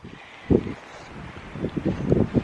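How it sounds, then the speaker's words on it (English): Wind gusting beside one of the Rae Lakes on a mountain hiking trail at midday, a broad rushing noise that swells into several short buffeting gusts against the microphone, close and fairly loud. "The wind just kicked up."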